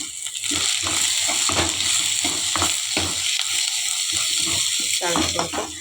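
Browned onions and finely chopped curry leaves fry in a pan for idli masala, with a lively sizzle punctuated by repeated spatula scrapes and stirring knocks close by.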